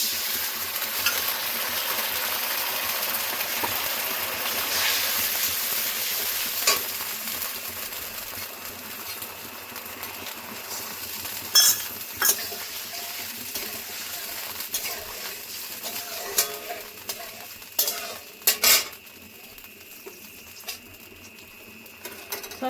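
Sauce thinned with water hits a hot frying pan for restaurant-style chili chicken, first bursting into a loud hiss, then settling into softer sizzling broken by repeated clinks and scrapes of stirring.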